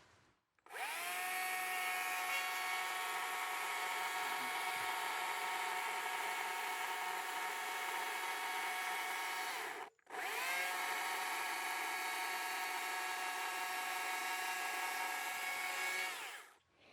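A chainsaw carves a wooden gnome sculpture, a loud, high-pitched buzzing whine that holds steady as it bites into the wood, cutting out briefly mid-way before starting up again and running until it stops.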